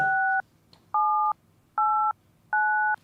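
Four telephone keypad DTMF dialing tones sound one after another, each a clean steady two-pitch beep of about half a second, separated by short silences.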